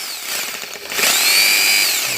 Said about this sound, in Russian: взял перфоратор